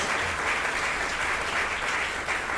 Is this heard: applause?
yes